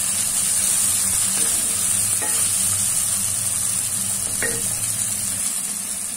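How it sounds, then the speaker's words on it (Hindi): Tomatoes fry in a pan as part of a moringa chicken dish, giving a steady close sizzle with a few scraping stirs of a utensil and no voice. "उतनी देर तक फ्राई करूंगी जब तक टमाटर टेंडर नहीं हो जाते।"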